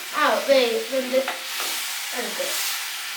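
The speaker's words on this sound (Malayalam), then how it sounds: "ഇത് പതുക്കെ ഇളക്കി ഒന്ന് ചെറുതായിട്ടൊന്ന് വെന്ത് കിട്ടണം." Raw pineapple pieces stirred in a stone pot, a soft scraping and sizzling texture with a few brief clinks of the utensil, close by and moderately loud, while a voice talks through the first half.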